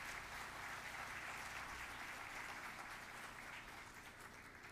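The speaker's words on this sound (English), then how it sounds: "Let's give a round of applause." Steady applause from an audience, a dense wash of clapping that holds even throughout and fades slightly toward the end.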